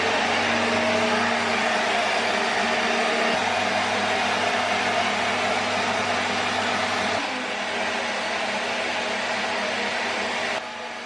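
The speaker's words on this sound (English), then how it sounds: "Then I'm going to attach the blow dryer to the end." A hair dryer used on natural hair under a plastic cap runs continuously close by, a steady loud whooshing hum with no talking.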